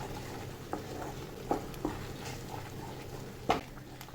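Quiet scraping and stirring of semolina in a pan, with a few sharp clinks of a spoon against metal over a faint low background.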